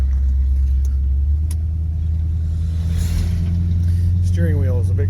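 An old black truck fitted with a new fuel injection system and 800 CFM throttle body, its engine rumbling deep and loud from inside the cab and rising as it accelerates toward the end, with a voice speaking over it.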